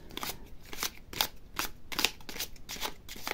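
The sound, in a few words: shuffling tarot cards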